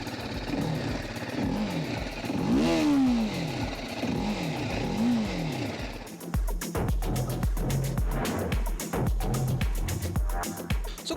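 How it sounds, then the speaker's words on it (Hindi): A TVS Apache RTR 310 motorcycle revs its engine up and down repeatedly, the exhaust note rising and falling in a series of loud blips, followed by a rapid choppy burbling idle up close. "अगर आप इसका एग्जॉस्ट नोट सुनते हैं तो आपको एग्जॉस्ट नोट इसका पसंद आने वाला है।"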